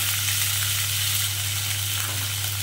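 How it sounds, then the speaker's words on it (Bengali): Thinly sliced onions hit hot oil in a pan for a chicken do pyaza, giving a steady, loud, continuous sizzle with no voices and an even low hum beneath. "দিয়ে বাড়িয়ে বাড়িয়ে হালকা করে ভাজবো, খুব বেশি লাল করে ভাজবো না"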